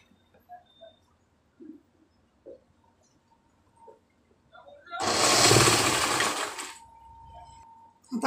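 A sewing machine double-stitches blouse piping strips together. Soft handling clicks and taps come first, then a single loud, close, continuous stitching run of about two seconds before it stops.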